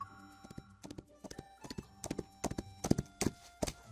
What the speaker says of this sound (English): I hear the distant sound of galloping hooves